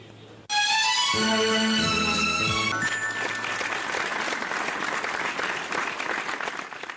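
Audience applause breaks out at a tribute concert broadcast by Madurai Pothigai television, a sudden loud burst of clapping that follows a short musical chime and continues steadily to the end.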